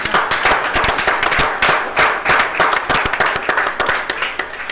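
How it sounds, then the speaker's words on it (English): An audience claps at a live final-day event in Nigeria, a loud, dense run of sharp overlapping claps that swells and eases in waves, with no talk over it. "Clap for me now."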